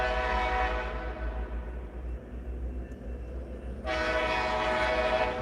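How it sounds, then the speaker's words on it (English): Train locomotive passing near a road with no cars attached, a loud continuous rumble and roar with a horn-like tonal layer that swells again near the end, no voices. "There's that train."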